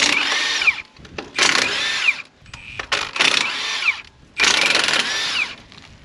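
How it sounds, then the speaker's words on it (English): A power tool drives off 3/4 inch gearbox bolts on farm pivot irrigation equipment, loud whirring bursts of about a second each, four runs separated by brief pauses and clicks. "So now I'm going to unbolt the gearbox. Basically there's just 3/4 inch bolts."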